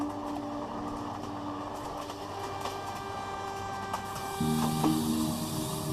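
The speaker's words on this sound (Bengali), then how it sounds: "তখন আমাদের ট্রেনটা ভঞ্জপুর রোড স্টেশনের নির্জন প্ল্যাটফর্মে এসে দাঁড়ালো" A train pulls into a deserted station platform on the Odisha border, a steady rumbling roll with mechanical whine and humming tones that shift and swell toward the end.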